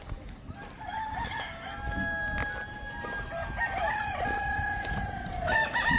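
A rooster crows loudly and long, with other free-range village chickens clucking and calling nearby over a noisy outdoor poultry-farm background.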